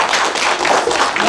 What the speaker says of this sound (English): Yeah, clap, you should.